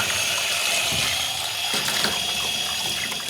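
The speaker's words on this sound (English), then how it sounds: "So start off by rinsing that through under the tap" Tap water running steadily into a sink while parts of a Wagner HVLP paint sprayer are rinsed clean of paint, a loud close continuous splashing flow with no speech.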